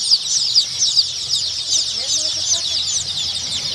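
A dense, continuous chorus of high-pitched peeping comes from many chicks and ducklings crowded together at a poultry farm, close and fairly loud.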